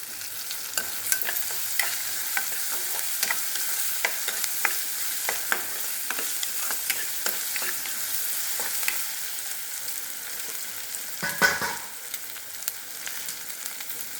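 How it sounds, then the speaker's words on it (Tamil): Onions with rock salt are sautéed in a pan, a gentle continuous sizzle punctuated by frequent spatula scrapes and stirring knocks, one louder clatter near the end; no one talks. "நல்லா வதக்கிடணும் வெங்காயம் வந்து கொஞ்சோண்டு கல் உப்பு"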